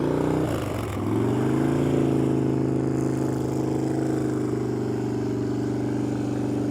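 A vehicle engine holds a steady, loud drone with a rising pitch early on as the throttle opens, then settles into a sustained rev near the listener.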